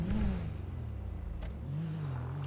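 A modded right-hand-drive stock Toyota Mark 2 appears in GTA 5 with a steady engine drone that swells near the start, dips and holds at an even idle-like level, with no talk.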